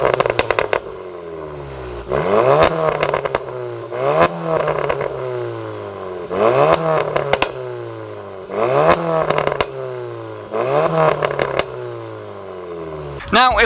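A Volkswagen Golf R with APR parts revs its exhaust repeatedly, engine note rising and falling in regular surges about every two seconds, close and fairly loud with crackles between.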